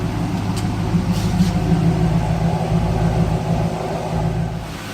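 A Pontiac WS6 engine idles after a cold start in winter, a steady low rumble heard close and alone throughout.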